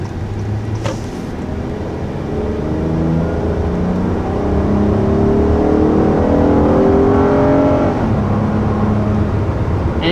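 A 2021 Honda Odyssey minivan's V6 engine pulls hard up to 60 mph, a rising drone climbing steadily in pitch and loudness inside the cabin before easing off near the end, with no talking.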